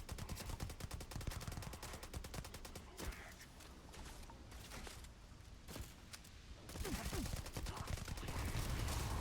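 An Allied AA 15 rifle fires in Starfield in long, dense rapid bursts with a brief break in the middle, loud and continuous throughout.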